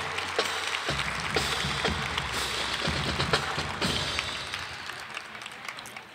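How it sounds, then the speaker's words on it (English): Crowd applause for the Lincoln High School band, drumline and drum majors at an outdoor community event, steady dense clapping throughout with scattered louder claps and a low rumble underneath. "one more round of applause for the Lincoln High School band, drumline,"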